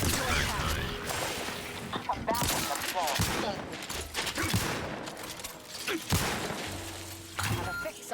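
Rapid gunfire bursts from the sci-fi shooter The Outer Worlds 2 crackle and thud through a busy, dense mix of combat effects, with a voice talking over the action.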